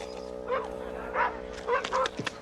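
A dog gives several short yips, barks and whimpers in quick succession over a steady low hum, fairly close, with no talk.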